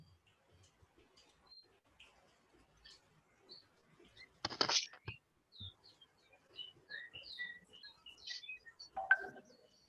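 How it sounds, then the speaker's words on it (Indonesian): Birdsong played from an online advertisement, faint scattered high chirps and tweets with a few louder bursts and some clicks and handling noises, heard from a distance. "kalian dengar suara burung ya?"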